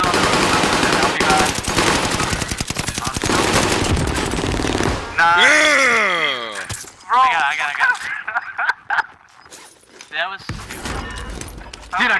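Gunfire in the shooter game Rebirth, rapid machine-gun bursts rattling close and loud, then scattered shots and sharp single cracks, with players talking and shouting between the volleys.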